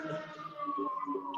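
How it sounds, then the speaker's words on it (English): Sirens of emergency vehicles passing by, a steady wailing tone sliding slowly downward, continuous and fairly loud throughout the brief moment, with no talk over it. "bunch of sirens going by at the moment"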